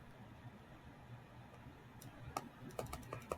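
Fingers tapping on a computer keyboard, a few faint scattered keystrokes at first, then a quick burst of sharp clicks near the end over a quiet hiss.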